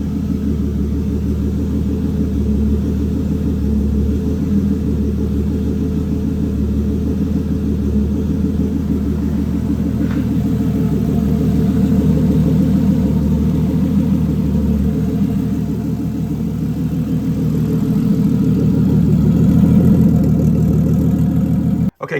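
A Toyota 2JZ engine run on an ECUMaster EMU Black with full sequential fuel and spark idles rich on its warm-up cycle, a loud, close, continuous low rumble with a steady pulsing beat that holds throughout.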